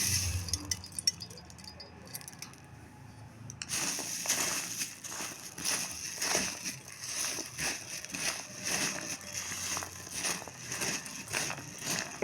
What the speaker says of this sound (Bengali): এর মধ্যে এবার মুড়িগুলো ঢেলে দেবো।